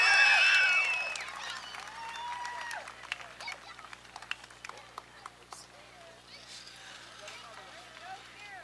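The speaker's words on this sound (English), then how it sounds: "in just a moment we will greet the Somerset, Pennsylvania driver with a round of applause" Crowd in the grandstand at Motordrome Speedway on a hot summer race night in 2005 applauds a winning driver from Somerset, Pennsylvania. Clapping and cheering are loud at first and fade over a few seconds, leaving scattered claps under talk.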